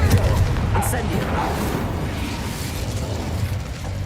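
Fiery whoosh and crackling burst of the Incendio fire spell in the video game Hogwarts Legacy, a dense roaring blast that fills the moment and fades into a steady rumble.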